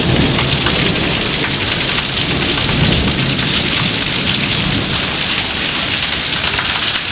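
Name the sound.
thunderstorm with rain and thunder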